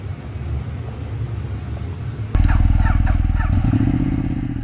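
A 1200 cc motorcycle engine running during a ride on the road, a loud steady low roar with rhythmic pulsing that rises sharply partway through as the bike pulls harder, with wind noise throughout.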